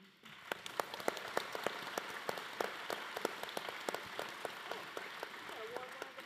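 Scattered, faint applause from an audience at a county State of the County address honoring veteran service officers and veterans, with distinct individual claps over a quiet room and some talk.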